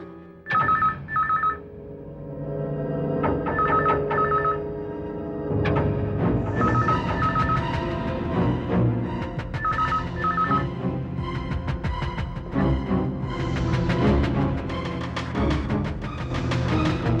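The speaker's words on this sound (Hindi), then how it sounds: "एक मिनट, मैं पुलिस को फोन करता हूँ।" A telephone being dialed and then ringing, its tones sounding over a dense, busy musical background.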